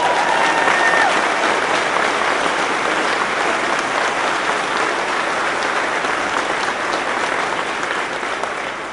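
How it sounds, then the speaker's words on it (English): An audience at a political rally in Iowa applauds, a dense, loud sustained clapping that holds for several seconds and tapers slightly at the end. "I want to again give them a round of applause for all they have done."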